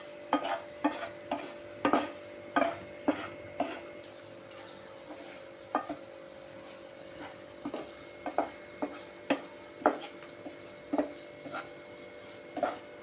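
Prawns sizzle in a pan while a utensil scrapes and stirs in irregular clinks and scrapes, close by, with no one talking.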